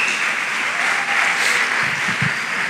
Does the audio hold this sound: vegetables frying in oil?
no